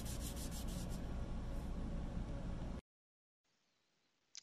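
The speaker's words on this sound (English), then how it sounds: "So this is 400 grit that I'm doing right now." Steady, gritty rubbing of a sanding block with 400-grit sandpaper scraped back and forth for a few seconds, then it stops, leaving near silence.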